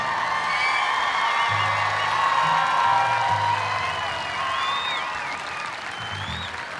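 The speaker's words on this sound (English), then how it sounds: "Let's give them a good round of applause." A graduation crowd applauds the Class of 2025 graduates, a steady sustained wash of clapping with occasional whoops and cheers, a voice carrying faintly underneath.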